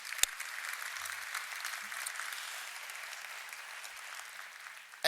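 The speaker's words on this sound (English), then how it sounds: "Please join me in one round of applause." Steady, fairly faint applause from a luncheon audience at an economic club event, an even hiss of clapping lasting throughout with one sharper clap near the start.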